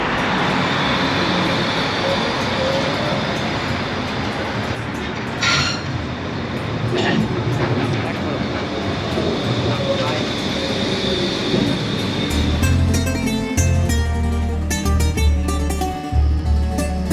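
A tram pulls into a stop in a large city with a loud, continuous rumble of wheels on rails and rising metallic squeals as it brakes near the listener, which grow more intense toward the end.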